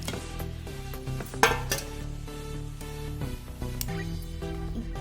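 Garlic and amla pickle ingredients are stirred in oil, with metal utensil scrapes and clinks against the pan over a soft sizzle, close and fairly quiet, one sharper knock early on.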